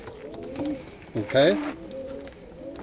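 Pigeons coo in a loft where kit birds are bred, a soft burbling coo rising near the middle over low room noise while someone speaks briefly.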